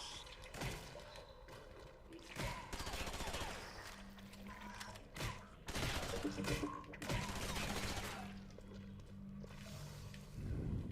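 Rapid bursts of gunfire fire at an alien nest in the video game Conduit 2, with clustered volleys and sharp impacts over a busy game soundscape.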